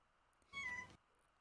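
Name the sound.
cat meowing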